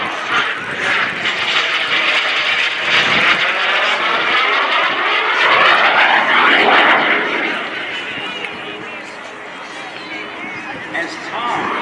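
Light aerobatic airplane weighing about 500 pounds maneuvering at a military air station air show, a steady loud engine roar swelling and sweeping in pitch as it passes, then fading slightly, with no talk.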